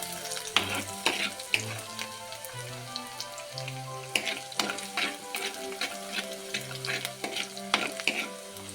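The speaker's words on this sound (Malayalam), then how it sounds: "ചുമന്നുള്ളി ചെറുതായിട്ട് അരിഞ്ഞത് ഇഞ്ചി കുത്തിയിരുന്നത് ഇതും കൂടെ നമുക്കിതിലേക്ക് ഇട്ട് അതൊന്ന് മൂത്ത് വരുമ്പോൾ" Chopped shallots and crushed ginger fry in a pan for an anchovy coconut curry, giving a crackling sizzle with sharp pops and intermittent scraping stirs, fairly quiet and close, no speech.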